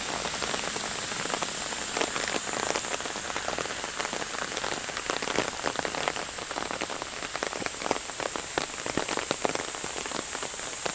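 Steady rain falls outdoors among evening primrose flowers, a dense, even patter of drops on surfaces continuing throughout, fairly close and without any voices.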